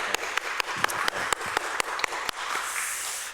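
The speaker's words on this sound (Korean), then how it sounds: "우리 하나님께 영광의 박수 올려드리겠습니다" Church congregation applauding during a Sunday worship service, a steady wash of clapping with a few sharper individual claps standing out near the front, moderately distant, fading after about two and a half seconds.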